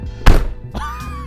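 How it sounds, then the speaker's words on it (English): Range Rover back door given a firm thud and then shut, two solid thunks a fraction of a second apart, close and loud with no talk. "test the back door here for me. Just give it a good thud. And then close it."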